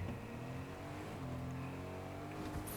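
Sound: car engine in Fortnite video game

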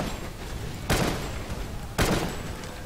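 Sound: gunfire from a weapon in the video game Primal Carnage

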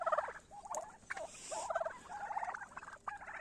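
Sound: turkeys gobbling on pasture

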